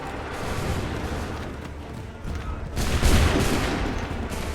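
Gunfire volley in the video game Assassin's Creed III: dense, sustained crackle of many muskets rolling on throughout, with a louder, heavier burst swelling in the second half.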